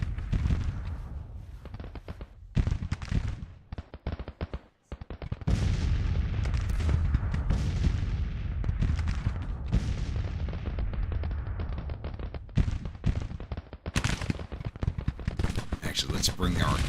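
Sustained battle din from Grand Tactician: The Civil War, with dense rattling musket volleys and booming artillery rolling on almost continuously, loud and layered, with brief lulls between waves of fire.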